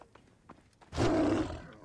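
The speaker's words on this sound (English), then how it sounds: "Why do I keep hearing a growl?" A deep, loud lion growl from a video game swells up abruptly and rumbles steadily for close to a second after some quiet background noise.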